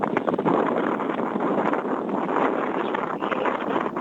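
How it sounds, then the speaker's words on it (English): Steady wind buffeting a phone microphone during a call-in to a radio show, a loud continuous rumbling hiss with gusty fluctuations throughout, no voices. "it's a bit windy there, John, I can tell."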